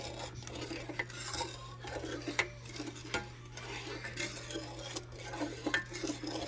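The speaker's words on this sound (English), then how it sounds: "We're going to stir it until it completely dissolves." Spoon stirring jello in a pot off the heat until dissolved, a soft scraping and clinking against the metal that repeats steadily, close and fairly quiet, with a low steady hum underneath.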